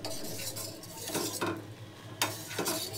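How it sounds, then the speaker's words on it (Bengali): Milk being boiled in a pot while a spoon stirs it, giving repeated soft scraping strokes and light metal contact over a low, steady bubbling hiss. "এই যে দুধটা জাল দিচ্ছি"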